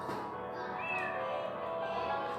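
A single short cat meow rises briefly over a steady low background hum, faint and somewhat distant.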